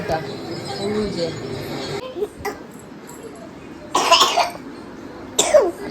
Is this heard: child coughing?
yes